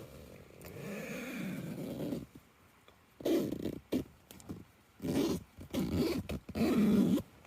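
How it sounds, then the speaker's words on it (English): A tent zipper is pulled open up close in several short, raspy strokes separated by pauses, with quiet rustling between them. "the sound of the zipper in the morning"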